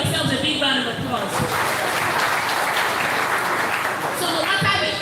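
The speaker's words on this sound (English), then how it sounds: "Give yourselves a big round of applause" A seminar audience of the Ogun State police command's security gathering claps steadily and loudly for several seconds, with voices and a few cheers mixed into the applause.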